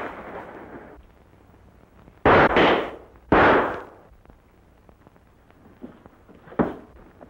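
Two loud, booming gunshots fired at close range in a 1940s western film, each a sharp blast with a rolling tail, followed by a fainter third report.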